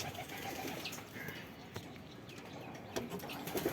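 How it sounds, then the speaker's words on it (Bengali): Sirazi pigeons coo faintly and intermittently over a steady background hiss, with occasional soft rustles nearby. "সিরাজি কবুতর এত সুন্দর"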